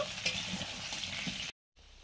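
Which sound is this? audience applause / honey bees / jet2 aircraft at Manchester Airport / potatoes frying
potatoes frying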